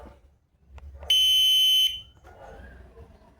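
A loud, shrill electronic ringer on a CUBE Reaction hybrid bicycle's alarm system sounds once for under a second, with quiet handling noise before and after.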